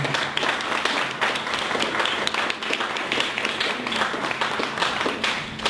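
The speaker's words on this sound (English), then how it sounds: "let's give Hajj Flemings a big round of applause." A live audience gives a round of applause after a talk on personal branding, close and lively clapping with distinct individual hand claps popping out of the steady crowd sound.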